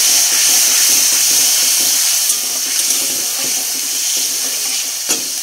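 Water pours steadily and loudly into a pan holding chillies and turmeric, a continuous close hiss with a couple of faint clinks near the end.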